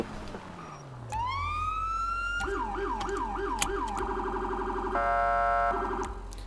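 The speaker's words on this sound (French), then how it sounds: "Alors ça c'est pour les sirènes police." A police siren in the video game FiveM winds up, then cycles through rapid yelping wails and a shifting tone, loud and close, with engine hum underneath.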